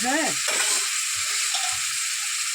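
Amudi fish curry stirred in a pan just after water goes in. A short vocal sound opens, then a steady hiss of simmering liquid continues with a few soft, low stirring bumps.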